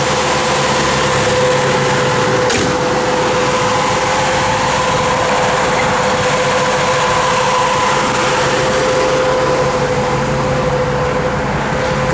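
A 1966 Chevrolet Nova engine runs at a steady idle close by, a constant low rumble with a sustained hum that holds even throughout, with no talk over it.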